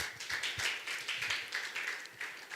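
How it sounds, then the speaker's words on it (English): Applause from the audience at a live consulting panel session, a steady patter of many hands clapping through the whole stretch, moderately close and not very loud. "Please give yourselves a round of applause again."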